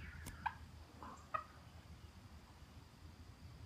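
A big bird, likely a turkey, calls with a couple of brief gobbling sounds, faint and somewhat distant over quiet low background hum.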